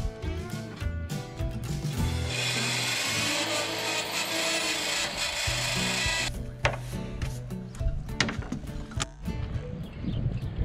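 Power sander working over bare metal on an abandoned yacht, a loud sustained grinding buzz near the start that cuts off partway, followed by scattered knocks and scraping contact noises.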